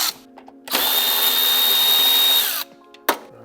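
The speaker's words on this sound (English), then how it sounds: "You'll have to work like an extension in either an 8mm or a 5/16 socket back there to remove this." A socket on an extension spins out a cruise control module bolt on a 1979-1993 Fox Body Mustang: one loud, close whirring tool run of about two seconds, then a short sharp burst, with no voices.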